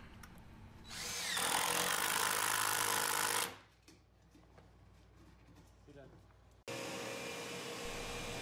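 A power drill whines loudly for a couple of seconds, stops, then starts again for a second run, pre-drilling through the wooden leg assemblies of an assembly table close by.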